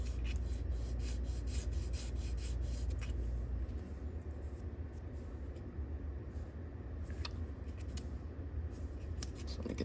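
Close, steady rasping of 220 grit sandpaper rubbed back and forth to bevel a part of an Estes Orange Bullet model rocket, continuous strokes without talk.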